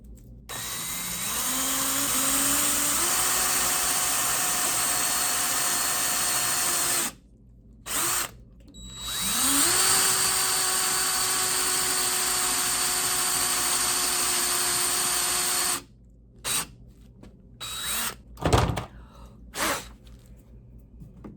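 Power drill boring dowel holes in furniture for repair, a loud close whine running in two long bursts with a short stop between, then clunks and handling noises at the end.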